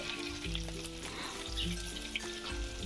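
Tilapia fish frying in hot oil with masala, a steady close sizzle and spatter with faint stirring clinks, no talking.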